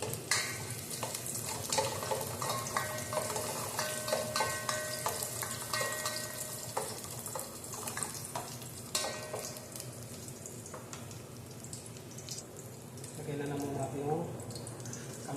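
Garlic, onion and tomato sauté in a hot pan for a Filipino fish-and-mung-bean dish, a steady close sizzle with the scrape and clink of stirring running throughout.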